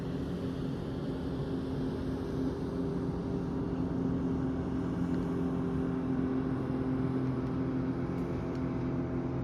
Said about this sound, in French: Il y a un bateau qui va passer.